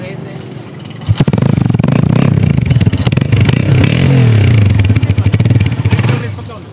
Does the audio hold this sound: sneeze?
no